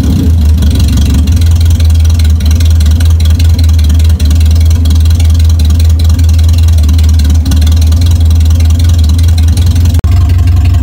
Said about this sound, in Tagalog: Maingay talaga to, gising talagang kapitbahay nyo dito pag binuksan nyo to ng gabi